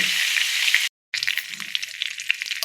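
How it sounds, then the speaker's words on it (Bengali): Vegetables sizzling in hot oil in a pan, a loud bright frying hiss with crackles and pops, briefly cut off by a silent gap before the sizzle returns. "সবজিগুলোকে ভালো করে এখন ভাজবো, সবজিগুলো ভালো করে একটা একটা করে ভাজবো"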